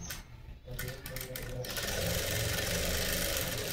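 Sewing machine running steadily while stitching a lehenga, a fast continuous mechanical whir that builds after a brief uneven start and holds loud and close to the end.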